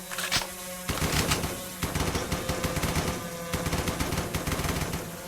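Rapid video game gunfire rattles in dense, loud automatic bursts with short pauses between volleys, close and continuous throughout.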